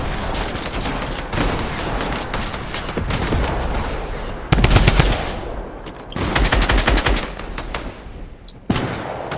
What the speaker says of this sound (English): Bro, I have a light machine gun.